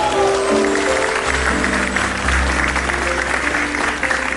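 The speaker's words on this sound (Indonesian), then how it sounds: "Tepuk tangan." Studio audience applause on an Indonesian comedy talk show, a dense steady wash of clapping from a crowd lasting several seconds, with a low hum and faint tones underneath.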